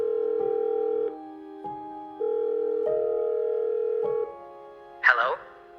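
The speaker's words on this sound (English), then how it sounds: "The dial tone rang several times before the other end answered." A telephone ring tone cycles through several long steady beeps with short gaps between them, loud and close, before a brief burst of other sound near the end.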